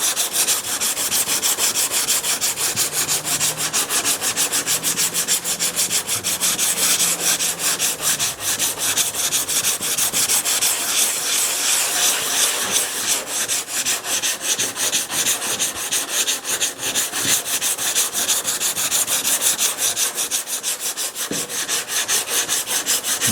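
Bondo body filler on a 1929 Chrysler car body is sanded by hand, with a steady, continuous rasping rub in quick, even strokes, close and loud for the whole stretch with no talk.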